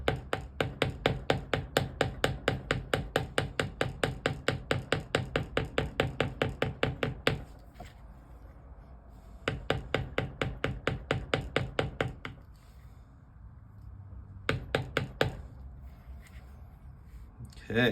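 A bevel tool is struck into leather with a mallet while carving a custom skull design, giving rapid, even runs of crisp taps close up, broken by short pauses between bursts.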